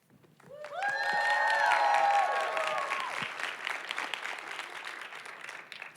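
An audience at a women's business launch event stands and cheers madly, with shrill whoops and whistles rising over dense, loud applause that swells quickly and then carries on steadily for several seconds.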